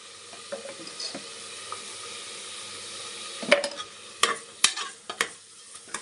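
Ginger-garlic paste sizzles in a pan with coriander and green chillies for egg biryani, a steady, soft frying hiss broken in the second half by several sharp spoon scrapes and clicks against the pan.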